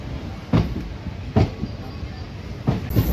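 The Koyna Express pulls out of Kolhapur, giving a few soft rhythmic wheel knocks about a second apart over a low, steady carriage rumble.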